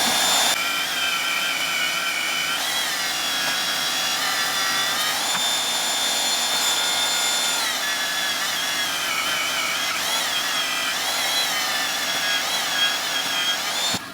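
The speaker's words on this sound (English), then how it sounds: "I'm gonna go over to the bandsaw and try and clean up some of this" A bandsaw runs steadily through steel for a Jeep rear crossmember, a loud continuous high-pitched whine with shifting tonal bands as the blade bites, close and alone with no talk.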